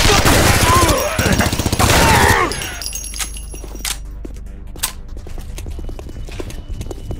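Suppressive gunfire in SAS: Secure Tomorrow, a rapid, loud burst of automatic shots over a voice, then single sharp shots and clicks scattered over quieter background sounds.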